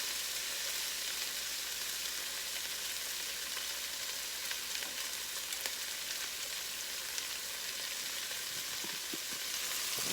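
Green beans fry in a pan with a steady, close sizzle and fine crackling that holds evenly for the whole stretch, with a few faint stirring knocks near the end.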